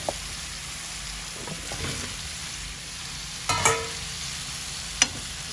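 Potatoes go into a pan of cooked-down spices for a Bengali spinach and prawn curry, giving a soft steady sizzle with scattered utensil clinks and a couple of sharp clanks, close and without talk.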